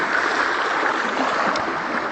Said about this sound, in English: Look, white water.